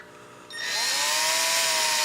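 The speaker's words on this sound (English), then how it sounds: "I'm going to drill my secondary hole right here." A power drill bores slowly into plastic on a LEHR 5.0 outboard motor, starting after a quiet moment and rising to a steady, loud high whine that holds alone.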